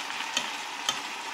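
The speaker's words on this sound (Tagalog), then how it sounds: "Haluin ng mabuti." Chicken soup with celery and vegetables gets stirred in a pot, giving a soft continuous scraping swish with two brief clinks of the spoon, close but quiet.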